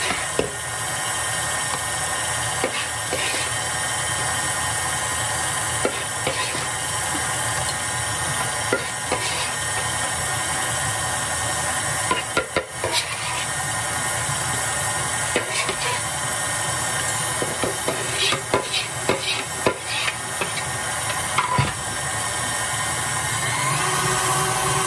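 A stand mixer kneads homemade pizza dough in a steady, continuous mechanical whir with a dense, even texture and faint knocks and thumps throughout, with no talking.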